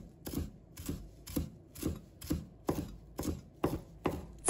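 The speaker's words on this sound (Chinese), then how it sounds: "把它切成小段。" A knife chops cilantro into short pieces on a board, giving about nine crisp, evenly spaced thuds at a steady rhythm. The sound is close and fairly quiet, with no talking.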